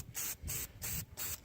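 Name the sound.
aerosol spray cleaning carburetor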